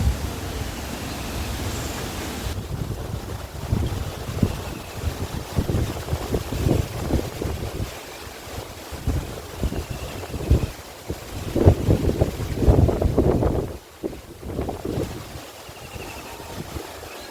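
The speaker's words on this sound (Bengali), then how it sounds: "আকাশে মেঘলা মেঘলা, আর বাতাস উঠেছে, ঝড় বৃষ্টি শুরু হয়ে গেছে" Strong, gusty wind from Cyclone Remal roars and buffets the microphone in uneven surges, with a rushing, noisy texture that swells louder toward the end before easing slightly.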